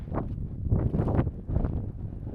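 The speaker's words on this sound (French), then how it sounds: "On a un vent latéral de... C'est au moins du 60 km/h, ça." A strong crosswind of around 60 km/h blows near a glacier below cliff walls, buffeting the microphone in loud, uneven gusts with rustling bursts and no voices.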